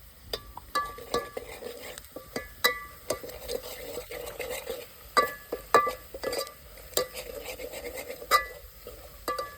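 Ginger, garlic, coconut and coriander paste stirred in a pan over a wood-fired stove while cooking mutton, with repeated sharp metallic clinks and scrapes of a spoon in an uneven rhythm over a faint sizzle, close by.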